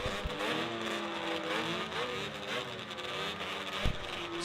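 A 1981 Kawasaki racing snowmobile runs at the Canadian Power Toboggan Championships, its engine revving and whining loudly among other machines, with a sharp thump near the end.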